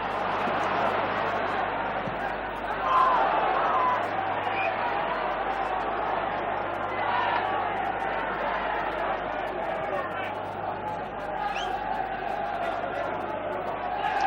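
A football stadium crowd at a Liverpool v Arsenal match in 1989 roars as a steady, distant wash of massed voices and chanting, mostly under a commentator's voice.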